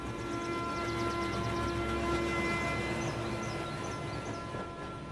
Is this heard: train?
yes